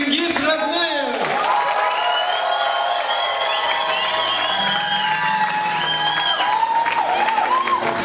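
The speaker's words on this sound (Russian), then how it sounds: "аплодисменты" Audience applause and cheers for a performer at a Mongolian White Month celebration concert, with whoops and a crowd roar under tonal singing or music that dominates throughout.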